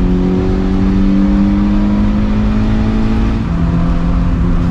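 Toyota Corolla Conquest RSi twin cam engine revving hard to a sustained high pitch, loud and close, with the tone easing slightly near the end.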